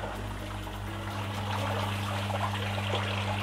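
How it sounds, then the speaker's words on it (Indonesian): A Jebo P30 aerator air pump bubbling steadily in a home fish pond, a continuous close trickle and gurgle of rising air over a low mechanical hum. "untuk pompa gelembung udara atau aerator pump saya menggunakan merek Jebo P30"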